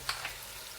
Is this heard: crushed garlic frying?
yes